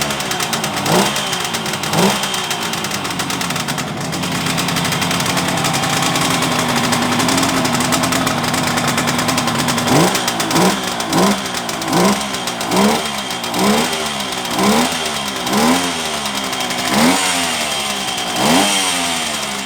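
A stock 1972 Kawasaki S2A 350 two-stroke triple motorcycle fires up and idles with a raspy, ringing buzz, then is blipped repeatedly in short rhythmic revs, close and loud.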